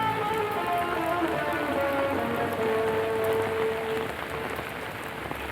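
Steady rain falls and patters on a surface close by, a dense continuous hiss with no voices.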